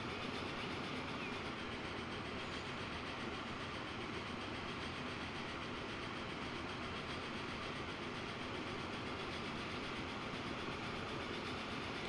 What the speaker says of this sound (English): this hub is going to look absolutely brilliant with all the trains coming and going